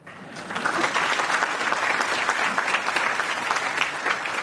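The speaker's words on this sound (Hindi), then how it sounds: "बजाओ ताली।" Sustained audience clapping at a spiritual discourse, steady and dense throughout without a break, with no voices on top.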